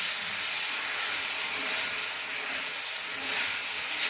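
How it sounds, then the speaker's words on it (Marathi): Dosa batter poured onto a hot pan, sizzling with a loud, steady hiss that swells and eases slightly throughout. "आता बघा तसा दुसरा पण डोसा सोडते मी।"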